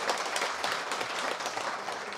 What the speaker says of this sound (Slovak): Wow, zatleskajte